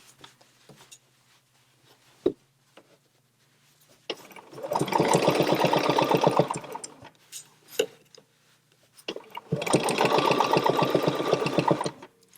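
Domestic sewing machine quilting a real quilt, guided by a quilting ruler, running in two sustained bursts of rapid, even stitching with quiet pauses and soft handling clicks in between.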